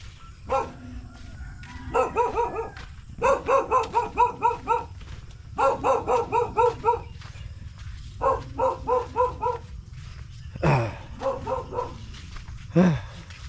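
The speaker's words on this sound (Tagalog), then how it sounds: "Aso." A dog barks in repeated rapid volleys of several yips each, fairly close and loud, with a couple of sharper single yelps and low background murmur between bursts.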